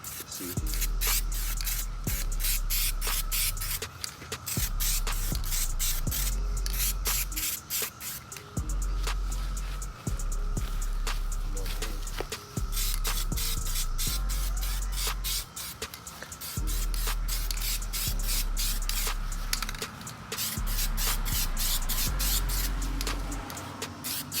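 Spray paint hissing onto an Infiniti G37 wheel rim being repainted after chipping, a loud steady aerosol spray in long bursts with brief pauses between passes, close and alone.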